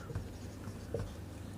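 Marker strokes on a classroom board during a chemistry lecture, a few soft scratchy swipes and taps, close but faint, with no voice over them.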